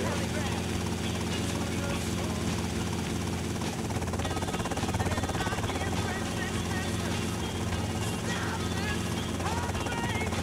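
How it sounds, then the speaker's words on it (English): Helicopter rotors thrum continuously at steady volume, a dense mechanical whirring that fills the scene without pause, from police helicopters in Grand Theft Auto: Vice City Definitive Edition. "There's a few helicopters flying around."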